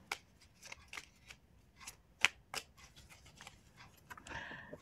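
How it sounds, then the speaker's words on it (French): Oracle card drawn from a deck during an angel-card reading, heard as faint, close shuffling clicks and light card flicks ending in a brief papery slide. "je vais tirer une dernière carte pour conclure le tirage"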